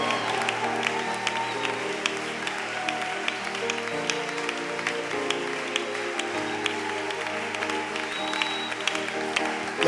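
Church congregation applauding steadily throughout, a dense continuous patter of many hands with sustained tonal sound, likely music or singing, running underneath at an even loudness.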